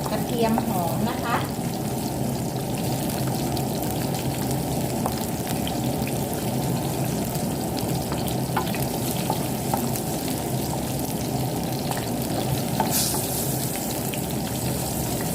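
Chili and chunks of garlic stir-frying in hot oil in a pan, a loud, continuous close sizzle with occasional scraping and stirring knocks throughout, no voice on top.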